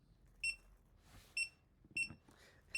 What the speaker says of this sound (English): That beeping is because it sees the QR code on my computer